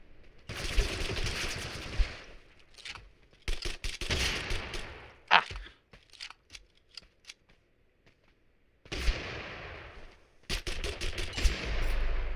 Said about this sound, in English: Oh, they got me with a shotgun.